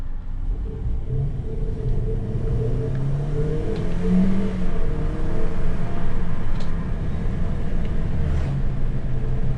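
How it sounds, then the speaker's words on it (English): Toyota Corolla XR 2020 sedan engine revving and accelerating under manual gear control, a steady loud rumble rising and falling in pitch throughout, heard from inside the car with no talk. "The window bit to hear some engine noise."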